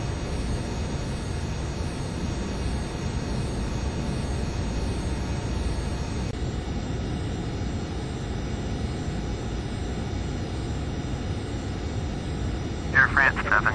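A Fokker 28 jet airliner taxis from Orly, its engines a steady loud whine and rumble throughout, with radio chatter faintly under it and a short burst near the end.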